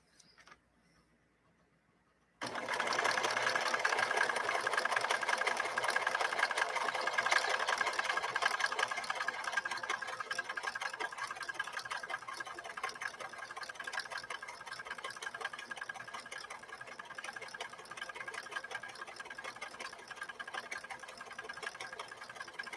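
A 1964 Montgomery Ward sewing machine starts after a short quiet pause and runs in a steady, fast mechanical whir with rapid needle ticking, continuous and alone for about twenty seconds.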